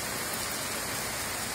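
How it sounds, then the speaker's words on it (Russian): A heavy downpour of rain during a thunderstorm makes a dense, steady hiss close by, unbroken and fairly loud for the whole short stretch, with no talk. "Дождик покруче, чем в Петербурге."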